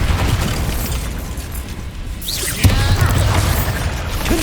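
A Bombarda spell explodes in Hogwarts Legacy with a loud blast and a rumbling burst, followed by crackling debris under dense ongoing combat noise.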